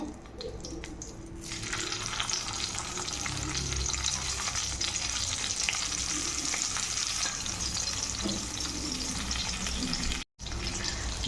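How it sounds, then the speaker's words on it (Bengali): Whole stuffed bitter gourds frying in oil in a wok, a steady close sizzle and crackle running continuously, with a brief cut-out just before the end. "দেখো আমি তেল দিয়ে ভেজে নিচ্ছি।"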